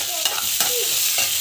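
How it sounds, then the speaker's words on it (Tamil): Chana dal sautéing in a pan gives a close, continuous sizzle with a few scraping stir strokes cutting through at intervals, with no voices over it. "கடலைப்பருப்பு போட்டுட்டு நல்லா வந்து வதக்கிட்டு"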